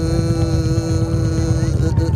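A man vocally imitates a Harley-Davidson motorcycle engine at a Harley rally in Wroclaw, producing a steady, throaty, humming rumble that stays loud and close throughout.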